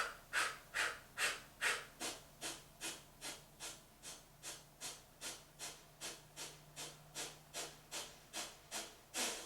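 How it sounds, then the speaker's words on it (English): Yoga breathing in a Kundalini practice: a long run of short, sharp exhales through the mouth, about two per second, evenly spaced and close, with no talk over them. "take a nice exhale out through the mouth. Another nice deep breath in. Short little exhales out."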